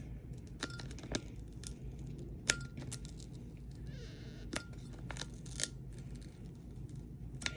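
UV DTF decal transfer film is pulled slowly off a 20oz glass, giving faint close rustling with sharp little ticks and clicks scattered through, no talk.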